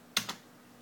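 Two quick keystrokes on a US-layout computer keyboard being set up for a ZX-Uno computer, sharp close clicks a split second apart, followed by quiet.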